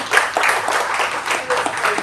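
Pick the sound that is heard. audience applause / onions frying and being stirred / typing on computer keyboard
audience applause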